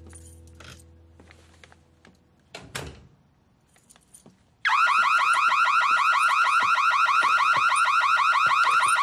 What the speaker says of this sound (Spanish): No sabía que la alarma estaba activada.